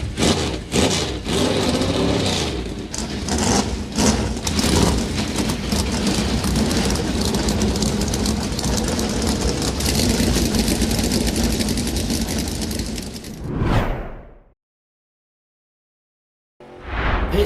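Stock car engines roar at Daytona during a NASCAR Duel race, a loud sustained broadband drone with engine hum throughout that cuts abruptly to silence near the end before resuming briefly.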